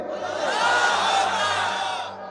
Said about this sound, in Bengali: বিবাহিত ভাইরা তাকবীর দিবেন, সিঙ্গেলরা চুপচাপ